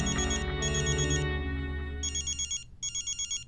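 A telephone rings in repeated electronic trilling bursts, fairly loud and close, following a swelling musical tone.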